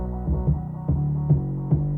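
A deep 808 beat without transient shaping, its bass notes booming low and long with soft, rounded attacks, pulsing in a steady rhythm.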